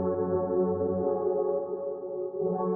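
Synth melody with Arturia reverb applied, sustained tonal layers with widened space, playing steadily alone with no voice.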